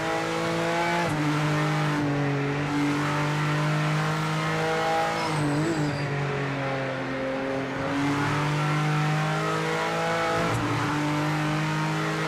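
A racing car engine in the video game Project Motor Racing on PS5 drones loudly at high revs, its pitch dipping and climbing as gears shift, with a brief tire squeal midway.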